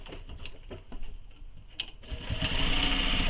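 A sewing machine sews the edge of a Kayla Commuter Tote, opening with a few scattered clicks, then revving into a loud, steady close-up whir for the final second or so.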